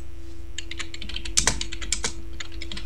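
Keys clatter on a computer keyboard while a cell entry is typed and confirmed with Ctrl+Enter in Excel 2013, a quick run of light clicks with a couple of sharper presses near the middle and no voices.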